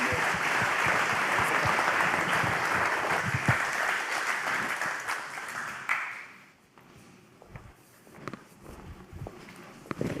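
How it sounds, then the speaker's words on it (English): An audience at an Austrian investor conference applauds a panel, dense sustained clapping that thins out after about six seconds into scattered claps, shuffling and footsteps. "A big round of applause for this great panel"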